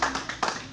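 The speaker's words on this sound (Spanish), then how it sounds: "Un aplauso al compañero" A few sharp hand claps in quick succession, close and distinct, applauding compañero Alfonso at a meeting.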